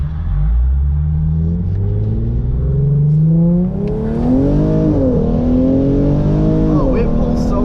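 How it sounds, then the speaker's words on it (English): Hyundai Genesis Coupe 3.8 V6 fitted with an ARK GRiP exhaust doing a full-throttle first-gear pull: a loud, deep exhaust roar climbing in pitch, dipping briefly at a shift point and rising again, heard from inside the car. "We'll do a little first gear pull right here."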